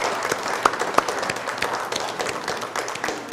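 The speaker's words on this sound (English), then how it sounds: "So let us give a good clap for Emily and Joanne." A yoga class audience claps in steady, dense applause with a few sharper individual claps standing out, continuous throughout.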